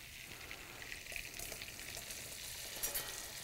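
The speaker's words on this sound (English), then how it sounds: "We will whisk that flour in" Flour is whisked into meatball pan drippings to make a roux for gravy, a quiet bubbling sizzle with soft, irregular scraping strokes in the pan.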